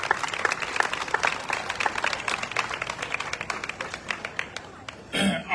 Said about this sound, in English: Give Kurt another big round of applause.